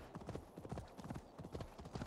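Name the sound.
horse hooves galloping in video game Assassin's Creed Valhalla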